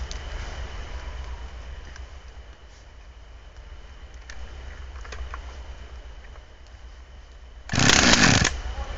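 A chainsaw is ground-started outdoors during tree felling, giving a short, loud burst of engine roar near the end after a stretch of quiet background.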